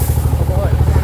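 A Yamaha Y15 motorcycle engine idles steadily after an overhaul, a close, even low rumble with a continuous rhythmic pulse and no talk over it.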